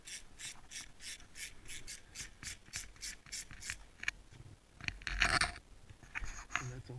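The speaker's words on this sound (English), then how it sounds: "Next thing I do is take the seat bolt out right here." Seat bolt on a motorcycle being backed out: a fast run of regular ratchet clicks, then scraping and rubbing handling noises, close and moderately loud.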